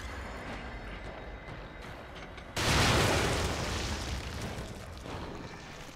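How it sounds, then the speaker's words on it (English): A grenade blast in the survival horror game The Evil Within erupts as a loud, sudden boom that swells over a steady rumbling backdrop and slowly fades. "all I gotta do is throw a little grenade at him"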